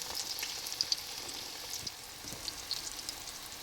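Steady crackling sizzle of eggplant frying in hot oil in a pan, with scattered sharp pops over a soft hiss, fairly quiet and with no talking.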